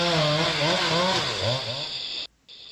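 A chainsaw runs in a forest, its engine whining steadily and wavering in pitch as it revs, loud and close before cutting out abruptly, then resuming briefly.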